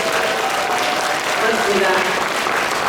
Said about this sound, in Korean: 함께 박수 한번 쳐주시기 바랍니다.